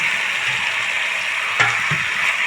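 Chicken and fried potatoes being sautéed in a pan for a curry, a steady close hiss of frying with a spoon scraping and clinking against the pan around the middle.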